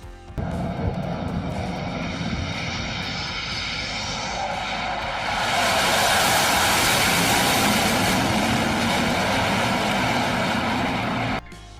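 A Sukhoi Su-33 Flanker D jet aborts its aircraft carrier landing, a loud sustained roar of jet engine that swells louder about halfway through and holds steady until it cuts off abruptly.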